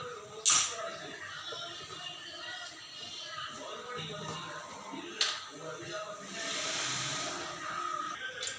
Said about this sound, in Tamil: அடுப்பு பற்ற வச்சுட்டோம்